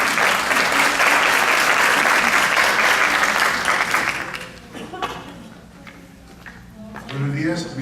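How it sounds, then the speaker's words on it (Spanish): Audience applause for a medical panel at a hypertension patients' meeting, dense and loud for about four seconds, then fading into scattered claps, shuffling and voices. "Un aplauso, por favor, para ellos"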